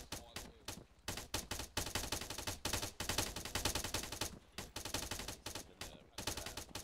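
Sustained gunfire in the military video game Arma, with repeated rapid bursts of automatic shots crackling in quick clusters, moderately distant and steady throughout without a break.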